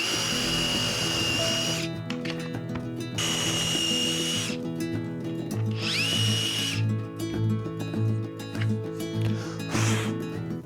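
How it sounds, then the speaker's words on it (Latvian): A power drill bores a series of holes along the edge of a wooden board using a drill jig in a workshop, with loud whining bursts separated by short pauses and handling sounds. "Tu vari burtiski saurbt šitā te visu sāni, pēc tam iebāz nākamajā un urb atkal tālāk uz nākamo."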